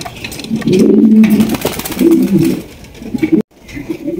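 Andalusian racer pigeons coo in low, throaty bursts close by, the soft rolling calls swelling and fading in repeated phrases over faint background rustle.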